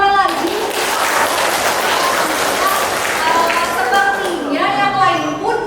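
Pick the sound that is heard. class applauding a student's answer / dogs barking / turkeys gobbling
class applauding a student's answer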